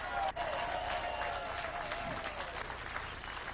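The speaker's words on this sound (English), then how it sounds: "Give yourself an applause and a hand" Supporters clapping at an election night gathering, steady mid-distance applause throughout with a brief dip near the start and faint voices underneath.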